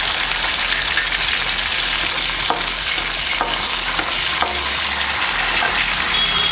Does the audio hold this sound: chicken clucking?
no